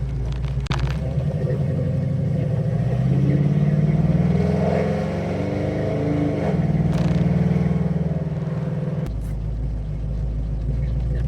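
A Ford Mustang engine idles in gear with no throttle, a loud, close, steady low rumble that swells gently now and then and runs the whole time.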